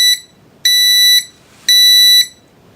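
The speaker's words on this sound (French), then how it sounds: "voilà, tout de suite, l'alarme se déclenche" Scythe Kaze Master Flat fan controller fan-stall alarm beeping: a brief clipped tone followed by two longer, loud, steady high-pitched beeps about half a second each, separated by short silences.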